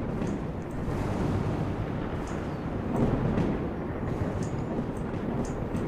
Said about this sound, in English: The storms in this game are so accentuated as well.